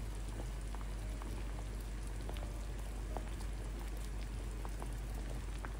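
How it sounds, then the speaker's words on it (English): A pot of carrot pumpkin punch bubbles on a stove, giving a faint, continuous simmer with scattered small pops and crackles and no voices. "It's bubbling."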